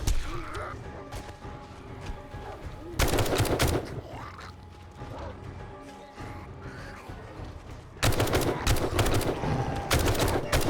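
Rapid automatic turret gunfire in the video game 7 Days to Die during a sandstorm horde night, loud bursts at about 3 and 8 seconds over a busy game soundscape.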